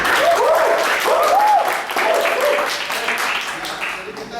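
An audience at a teacher-training session on differentiated learning claps together, a busy, fairly loud patter of hands that slowly fades, with voices speaking over it.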